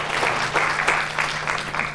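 Audience applause after a film screening and panel at a community discussion on fentanyl: steady, dense clapping from a room of people with a low constant hum underneath, lasting throughout.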